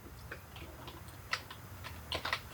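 Typing on a computer keyboard into a web browser's address bar: a quick run of soft, close keystroke clicks with a few sharper taps near the end, over quiet room hiss.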